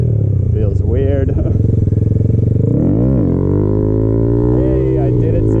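A Honda Grom motorcycle's small engine drones loud and close, swelling into a rising, falling rev midway before settling back to a steady ride note.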